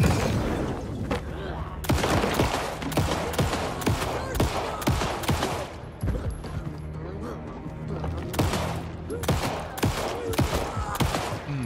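Gunfire in the video game Alan Wake 2 on PC, a dense run of sharp, loud shots cracking in rapid irregular bursts over a low droning backdrop, with game sounds and faint talk mixed in.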